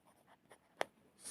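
Numbers written by hand during a Navodaya entrance maths lesson: faint pen or chalk strokes with one sharp tap near the middle and a brief rustle at the end, close and quiet, with no voice.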